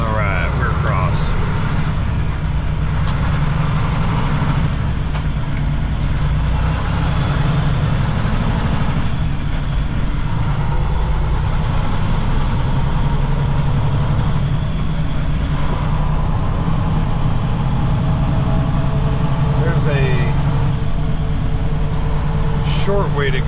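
A loud, steady diesel rumble fills the cab of a semi truck under way carrying a hazardous load, with whining engine tones rising and falling as it changes gears. A voice talks over the engine now and then.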